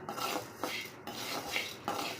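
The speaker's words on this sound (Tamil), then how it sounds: "அதுக்கு ஒரு பாத்திரத்தில் வெள்ளை சோளம் போட்டுட்டு மீடியம் ஃப்ளேமே நம்ம வறுத்துடலாம்." White sorghum grains rattle and scrape in a pan as they are dry-roasted over medium flame and stirred, in repeated gentle sweeps at close range with no talking.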